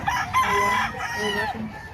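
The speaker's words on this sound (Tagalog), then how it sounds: "Ito pa yung mga manok mo." A rooster crows loudly and close, its drawn-out call overlapping other crowing and clucking from nearby fowl at a chicken market in Lipa, Batangas.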